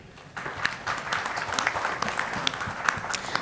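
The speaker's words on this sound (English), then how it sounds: "Let's keep clapping." Audience at a seed standards and certification conference session applauds as mementos are handed to panel members, a steady dense clapping that holds for a few seconds at moderate distance.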